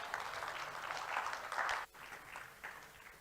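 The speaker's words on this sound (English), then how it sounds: "that deserves a round of applause" Applause from a political gathering's audience fills the room, a steady dense patter that swells, cuts off sharply near the end, then resumes at a lower level.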